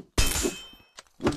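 A sharp metallic clang of a weapon parry in the video game Rec Room, followed by a softer ringing hit and a second clanging impact shortly after, close and loud.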